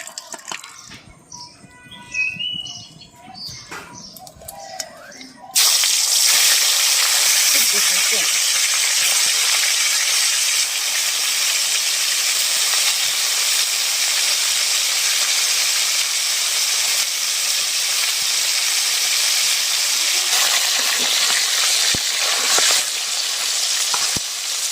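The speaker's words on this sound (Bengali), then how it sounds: "মাছ ভাজা হয়ে গেছে" Fish fries in mustard oil, a loud, continuous sizzle and hiss that starts abruptly after a few seconds of quieter kitchen sounds with faint clatter, then holds steady to the end.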